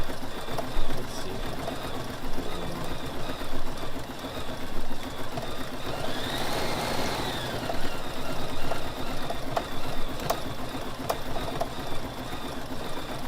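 A Bernina embroidery machine stitches out a design in a shop, its rhythmic mechanical chatter running steadily and moderately close, with faint background noise and no talk.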